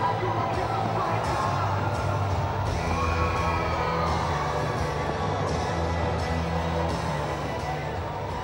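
A stadium crowd at a celebrity cricket league final in Hyderabad cheers and shouts after a boundary four, a dense, sustained roar with whoops and scattered yells, heard from a distance beneath broadcast sound.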